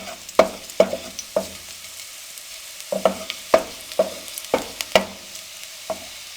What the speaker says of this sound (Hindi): अब लहसुन को हम 1 मिनट के लिए फ्राई कर लेंगे